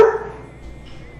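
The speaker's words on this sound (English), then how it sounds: "What is she barking at?" A single short bark from a pet dog in the house, close and loud at the start, then trailing off quickly into a quiet room.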